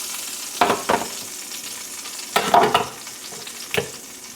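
A cold-smoked porterhouse steak fries in a pan with a steady crackling sizzle and several louder bursts of spatter as it is moved, close and with no talking.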